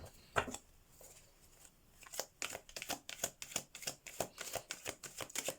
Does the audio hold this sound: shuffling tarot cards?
yes